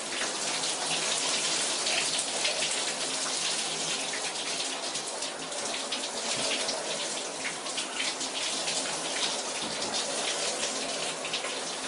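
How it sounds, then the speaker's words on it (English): Shower water pours steadily, a dense, even hiss and patter of spray striking a surface, loud and close throughout with no talking. "Trying not to get too much water outside of the shower"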